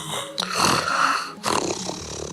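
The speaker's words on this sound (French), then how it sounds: "Tu ronfles si fort qu'on a cru que c'était un monstre." Loud snoring from a sleeper in a bedroom, in a cartoon or toy scene: two long, rasping, roaring breaths with a short gap between them, close and harsh, no talking over them.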